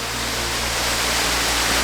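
Steady, loud roar of a waterfall in a canyon, a continuous broadband rush of falling water with no breaks, heard up close and alone.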